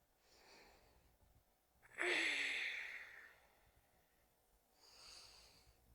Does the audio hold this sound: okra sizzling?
no